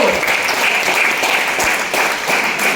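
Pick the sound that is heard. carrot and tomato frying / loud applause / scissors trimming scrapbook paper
loud applause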